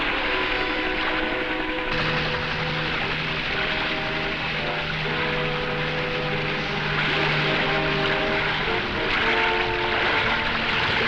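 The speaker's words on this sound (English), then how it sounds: "Like a huge dragonfly, the copter sweeps in, keeping the animal away from the bank." Low-flying helicopter sweeping close over a riverbank during an animal chase, a steady loud rotor and engine drone that holds throughout with slight swells, no voices.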